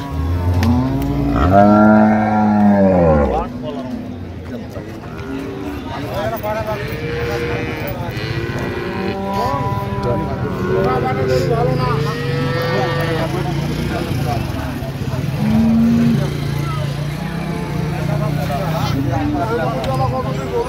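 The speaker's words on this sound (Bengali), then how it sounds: "গাভী বাছুর।" Dairy cows and calves moo again and again, loud and close, at Ambari cattle market in Dinajpur, amid a crowd with constant chatter and bargaining voices.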